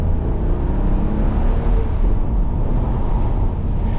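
An Audi TT Roadster with a 3.2 V6 pulls steadily under acceleration on the road, a dense continuous low engine roar with wind and road noise, heard from inside the open car with no talking.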